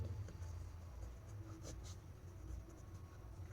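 Faint scratching of writing on paper during a physics lesson on concave lenses, soft and steady strokes over a quiet, low room hum for a few seconds.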